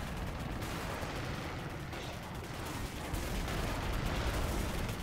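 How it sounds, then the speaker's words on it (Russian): Gunfire in the first-person shooter Singularity, in its laboratory level, rattles continuously, with dense bursts of shots and booming impacts filling the clip at steady loudness. "Так, слышу стрельбу."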